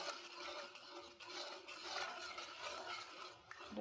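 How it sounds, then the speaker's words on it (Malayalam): Ragi porridge thickening in a pan is stirred steadily, a soft, quiet scraping and swishing that runs continuously close by with no talk. "നമ്മൾ ഇതിന് കഴുകി വിടാതെ ഇങ്ങനെ ഇളക്കിക്കൊണ്ടേയിരിക്കണം"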